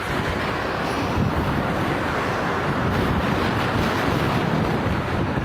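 Steady, loud wind roaring across the microphone on a bicycle ride through Amstelveen, a dense unbroken rush with no pauses and no voices.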